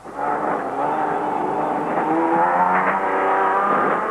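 In-car sound of a big SP rally car at the Carnival City 400 in 2005, a loud, sustained engine drone that rises and falls in pitch as the car accelerates and shifts.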